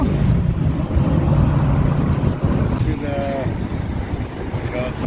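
Steady wind gusting across the mic at the Bueng Phlan Chai lakeside in Roi Et, a loud continuous rush with faint water and distant background sounds.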